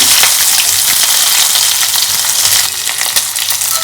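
Onion, mustard seeds, cumin and dried chillies fry in hot oil for a tempering, giving a loud, steady sizzle with small pops and crackles throughout.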